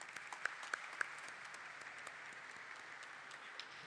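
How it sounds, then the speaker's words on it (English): Audience applause at a company stock listing ceremony, a steady wash of many hands clapping heard from a distance, faint with a few sharper nearby claps at the start. "Let's welcome him with a huge round of applause"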